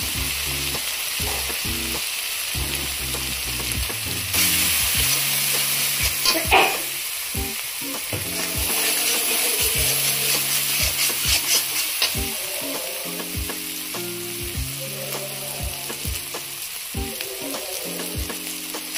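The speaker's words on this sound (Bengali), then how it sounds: "মশলাটা ভালো করে ভাজা ভাজা করার পরে এই যখন একটু তেল ছাড়বে" Spice paste with turmeric powder frying in oil for a pabda fish curry, a loud close sizzle with repeated wooden scraping and stirring strokes against the pan, and no talking.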